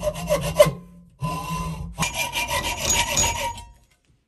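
A workpiece for a knife-sharpening jig is cut to length by hand with a saw, making rasping strokes in three bursts separated by brief pauses, close and moderately loud.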